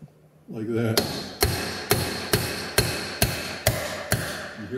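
A metal seal driver is hammered into a Jeep Wrangler Rubicon Dana 44 axle: eight sharp, evenly spaced ringing blows, close and loud, with a brief low scrape before the first strike.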